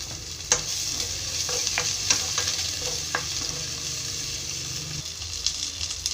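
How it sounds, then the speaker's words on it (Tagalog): Garlic and onion sautéing in a pan, a steady sizzle with a few sharp clinks and scrapes of stirring, close and moderately loud with no talk. "gisa muna natin ang bawang. Sigatin ang sibuyas."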